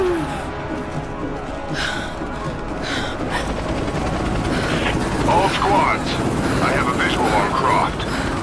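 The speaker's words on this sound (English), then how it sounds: "My weapons are no use against that chopper." An enemy helicopter in Rise of the Tomb Raider churns with a continuous rotor drone and whine, mixed with gunfire and action noise, under a voice talking over it.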